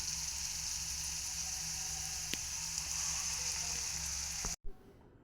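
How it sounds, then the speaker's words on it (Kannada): Onion and masala paste fry in oil with curry leaves for chana masala, making a continuous sizzle with occasional pops, close and fairly even, then cutting off abruptly near the end. "ಇದು ಸ್ವಲ್ಪ ಹಸಿ ವಾಸನೆ ಹೋಗೋ ತನಕ ಭಾಳ ಹೊತ್ತನ ಎಣ್ಣೆ ಒಳಗೆ ಫ್ರೈ ಮಾಡ್ಬೇಕು ನೋಡ್ರಿ"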